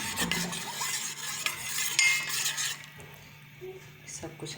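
A spoon stirs a gulab jamun syrup mixture in a pan, producing a close, continuous scraping and swishing that quietens toward the end, with light clinks of metal on the pan.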